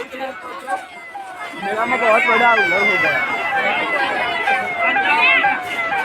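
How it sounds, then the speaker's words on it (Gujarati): A police siren wails in rising and falling sweeps, growing louder partway through, with people talking and moving about nearby at a fight at the Kheralu fair. "પોલીસની ગાડી આવી જઈએ"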